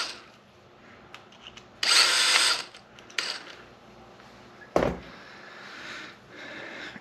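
A power driver whirs in brief bursts while screws are driven back into a Traxxas 8S ESC on an X-Maxx Ultimate RC truck. Its close, mechanical spins come in short spurts, and faint handling noises fill the pauses.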